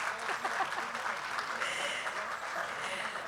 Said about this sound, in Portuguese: Eu peço a todos que se levantem para receber o nosso aplauso.